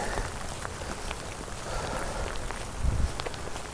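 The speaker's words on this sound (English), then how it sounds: "the rain's getting heavier now. You can probably hear it." Heavy rain patters on surrounding surfaces at a moderate distance, a soft continuous hiss dotted with individual drop ticks and a brief low thump near the end, with no talk.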